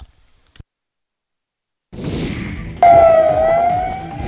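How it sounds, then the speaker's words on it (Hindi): After a short silence, a loud siren starts up, its wailing tone rising and falling steadily, close and sustained. "पूरे इलाके में पुलिस सायरन की गूंज सुनाई देने लगी"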